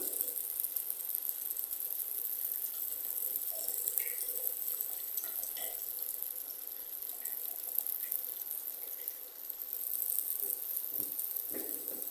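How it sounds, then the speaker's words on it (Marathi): Water splashed into sizzling fish curry masala in a pan, a steady soft hiss and trickle with small rattles and clinks, moderately quiet and unbroken, no voices. "त्याच्यात थोडं पाणी घालून घ्यावं"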